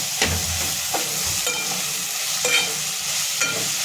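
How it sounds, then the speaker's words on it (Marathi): Biryani masala spices sautéed with onion and tomato for a prawn pulao give off a loud, steady sizzle, broken by regular scraping stirs of a spoon across the pan roughly every second. "आणि इथे बिर्याणी मसाला मी 2 चमचा टाकून घेते आणि छान मसाले आपल्याला परतून घ्यायचे"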